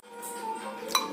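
Spoon clinks against a bowl while green salad with salt and red chili is mixed, a soft scraping stir with one sharp bright tap near the end.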